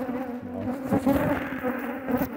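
Honey bees swarm around honey super boxes at a hive, a dense, close buzzing drone that wavers continuously throughout with no talking.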